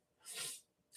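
A single brief, breathy sneeze, close and fairly soft, followed by a quick short snort.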